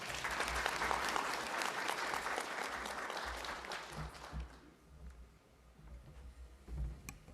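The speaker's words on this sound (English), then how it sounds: "Let's clap again for that instrumental pledge." Audience applause at a programme relaunch event, loud and dense for about four seconds before thinning into scattered claps and fading to a quieter murmur.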